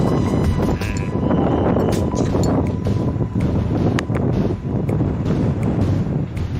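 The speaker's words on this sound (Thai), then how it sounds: "ลมแรงครับ วันนี้ลมแรงอากาศเย็นสดชื่นครับ" Strong wind gusting across a hilltop wind turbine field at Khao Kho in cool weather, buffeting the microphone in a loud, continuous roar with rumbling surges.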